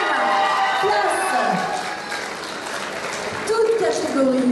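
At a Shaker Challenge 2014 prize ceremony, a crowd claps and cheers steadily throughout, with a loud announcer's voice speaking over the applause.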